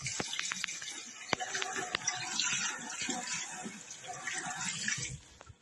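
Coffee machine parts rinsed under clean running tap water, a steady splashing flow with scattered clinks of the parts against the sink, continuing for several seconds before stopping.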